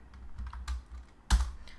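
Keys tapped on a computer keyboard while coding styles for a user interface, a handful of soft, uneven clicks ending in one sharper, louder keystroke, close and with no talk.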